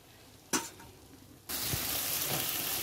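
Spice paste with sugar fries in oil on high-to-low flame, a brief stir clatter followed by a sudden, steady sizzle as the pan is worked, close and alone without voices.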